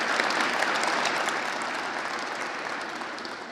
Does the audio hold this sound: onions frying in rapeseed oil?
no